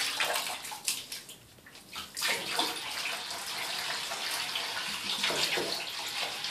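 Liquid bleach poured down a bathroom drain, a splashing, gurgling pour that falters briefly and then runs in a steady, close stream until the end, with no talk.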